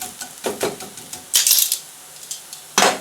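A spatula clinks and scrapes against a frying pan as a rösti potato cake is pressed down while it cooks, giving several short metallic taps and a couple of louder scraping bursts with quiet gaps between them.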